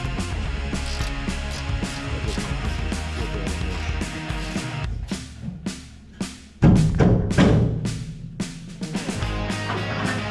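A wrench works a rusted nut loose on a trailer A-frame in a steady run of ratcheting clicks, close and loud, with a heavier burst of grinding, creaking metal as the nut finally breaks free partway through.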